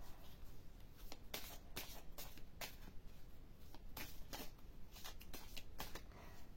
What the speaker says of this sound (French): Je vais piocher une première carte.